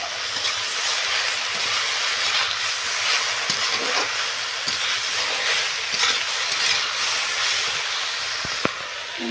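Fried Malabar spinach and other vegetables go into a pan with a fish head, giving a constant loud hiss and sizzle with occasional utensil taps and knocks against the pan as they are stirred.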